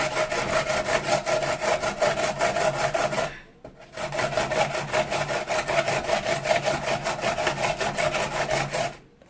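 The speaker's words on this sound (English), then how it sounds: "Carrots. So I'm just going to grate this a little bit more." Carrots scraped over a grater for coleslaw in a rapid, rhythmic rasping, each stroke a short gritty pass, with one brief pause midway; close and fairly loud, no talk.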